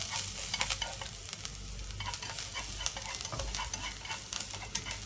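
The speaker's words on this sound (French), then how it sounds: "on laisse cuire l'ail un petit peu dans l'huile, vraiment pour que pour avoir le parfum" Crushed garlic frying in oil in a pan over high heat for Vietnamese bún bò Nam bộ, a continuous crackling sizzle with stirring scrapes and clicks, fairly quiet and close, no voices.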